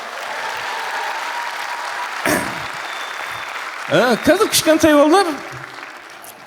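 Applause from an audience at a Kazakh stand-up comedy concert fades in the background while someone speaks over it, with a brief burst of clapping or laughter partway through.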